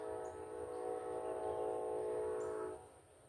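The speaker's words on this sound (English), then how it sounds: "I wonder if those whistles mean anything" A train whistle sounds from a distance, one long faint sustained tone that holds for a few seconds and then fades, with quiet ambient noise around it.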